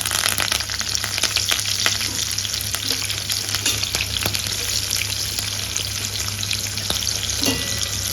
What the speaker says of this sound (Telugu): ఆయిల్ పెట్టుకొని నిలువుగా కట్ చేసుకున్న పచ్చిమిర్చి అలాగే ఆనియన్ కొంచెం అంతా కరివేపాకు వేసుకోవాలి